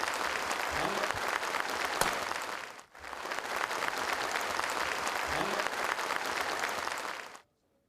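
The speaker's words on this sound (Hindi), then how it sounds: "जोरदार तालियां इसके लिए।" Loud, sustained applause from a large audience at a stage event, a dense wash of clapping that dips briefly midway, resumes just as strongly, then stops abruptly near the end.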